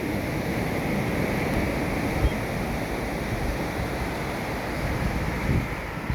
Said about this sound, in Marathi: अथांग असा म्हणजे आडवाडीचा समुद्र